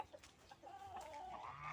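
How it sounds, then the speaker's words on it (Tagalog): Fighting cocks kept as pets cluck softly nearby, a few short quiet clucks followed by a longer, rising call, faint against a still background. "Mga alagang manok po ito"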